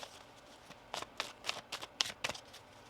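Tarot cards are shuffled in a series of quick riffling bursts, about half a dozen crisp flutters spaced through the clip, close up and fairly quiet with no talking.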